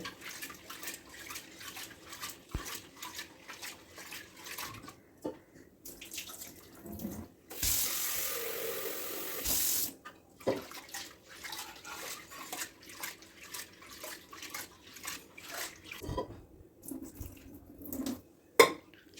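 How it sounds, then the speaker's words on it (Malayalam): A tap runs in bursts while lentils are swished and rinsed in a pressure cooker, with a loud steady gush midway and clinking of metal. "അപ്പോൾ പരിപ്പ് കഴുകി എടുത്തിട്ടുണ്ട്"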